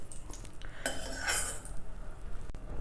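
A spoon clinks and scrapes against a pan while fried cashews and dates are lifted out of hot ghee: a few short metallic clinks and one brighter scrape midway, close and fairly quiet.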